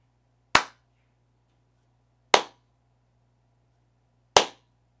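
Three single hand claps spaced about two seconds apart in a small home studio hung with moving blankets, each sharp and close with a short decaying tail over a faint steady hum.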